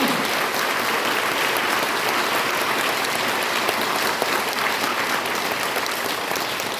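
A large audience at a peace-themed association address breaks into sustained applause, many hands clapping in an even, hiss-like wash that carries on without pause or talk.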